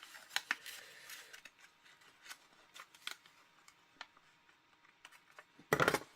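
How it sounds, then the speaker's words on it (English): Scissors snip through a small leftover bit of paper while making a mini window pocket for a Christmas craft, heard as a few quiet ticks and rustles before one sharp, close cut near the end. "And I'll use my scissors to cut that little bit."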